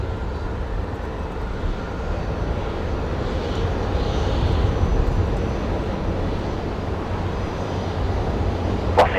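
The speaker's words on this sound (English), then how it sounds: "we got a Link Airways Saab heading out off of the Alpha 4 intersection tonight" A Link Airways Saab turboprop departing Brisbane Airport at night, a steady, distant engine roar holding for several seconds, broad and rumbling, with no talk over it.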